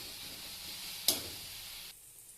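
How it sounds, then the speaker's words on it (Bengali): Steady hiss of onions frying in oil in a wok, with one sharp clatter midway before the sizzle drops quieter. "এখন কড়াইতে তেল দিয়ে পেঁয়াজ কষিয়ে নিচ্ছি"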